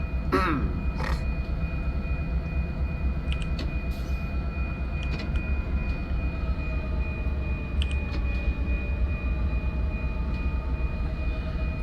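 Baby Bullet passenger train in the Train Sim World 2020 game, a steady loud rumble of the train running at about 16 km/h with a constant high whine and occasional brief clanks and squeals, no talking.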